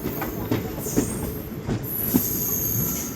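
The 55752 Haldibari–New Jalpaiguri passenger train pulls out of Ambari Falakata station with rumbling wheels, periodic clacks over rail joints and a high metallic squeal, steady and close.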